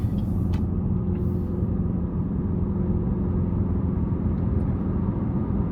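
A 2023 Chevrolet Malibu 2LT on the road under light throttle, with a steady, continuous low engine and road rumble heard from inside the cabin and no talking.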